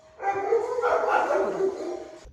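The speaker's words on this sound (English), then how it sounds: "it took a while for my dogs to stop barking" Dogs at home barking and yipping in a run of overlapping, close, fairly loud barks with a whiny edge, lasting about two seconds before cutting off.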